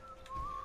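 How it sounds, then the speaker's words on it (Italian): A non-player character in Fallout 4 whistles through his helmet, a single thin, steady tone that holds briefly and then slides slightly higher, heard close and alone for under a second. "È lui che fischietta attraverso il casco."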